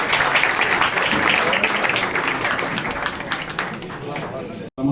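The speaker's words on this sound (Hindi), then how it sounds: "जोरदार तालियों से स्वागत" An indoor audience in a college hall at a Brahmin community gathering claps loudly to welcome a speaker to the stage, the applause slowly tapering before a brief cut.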